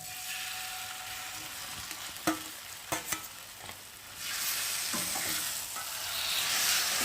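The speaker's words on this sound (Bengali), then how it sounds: "আর এখন সেদ্ধ করে রাখা বেগুনগুলোকে দিয়ে দেবো।" Boiled eggplant going into a frying tomato masala, with a few sharp clatters of stirring against the pan over a steady sizzle that grows louder toward the end.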